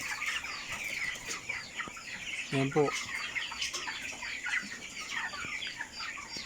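Twenty-five-day-old broiler chickens on a Filipino farm cluck and chirp in a busy, continuous flock chorus, with a brief nearer burst of clucking and a few spoken words.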